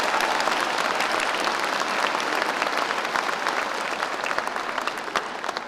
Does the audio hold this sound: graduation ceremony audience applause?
yes